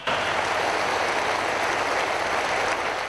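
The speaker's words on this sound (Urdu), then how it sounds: "خواتین و حضرات, آپ کی بھرپور تالیاں" A crowd at a Prime Minister's Youth Laptop Scheme ceremony breaks into sustained, dense clapping, a loud, uniform wash of hands that holds steady for about three seconds before tapering off, with no one talking.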